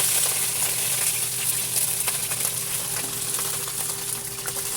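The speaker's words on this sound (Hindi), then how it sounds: "और इसको करेंगे अभी इसको फ्राई।" Chicken and garlic frying in a kadai: a loud, dense, continuous sizzle that fills the whole stretch, steady and close, with no voices.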